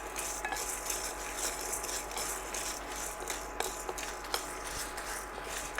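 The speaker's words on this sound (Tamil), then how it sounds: "4 வரமிளகா வரட்டு வறுவலாத்தான் வறுக்கணும்" Four dried red chillies dry-roasting in a pan without oil, with faint scraping and light rattling as they are stirred, a soft steady hiss underneath and small clicks scattered throughout.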